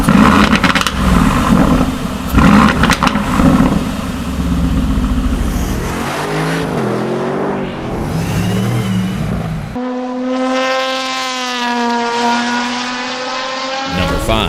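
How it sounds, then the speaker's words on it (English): A sports car with a quad exhaust revs loudly and close by, the engine note rising and falling through several changes in character before settling into a steady, high-pitched tone near the end. "The quad exhaust note shifts character with each mode."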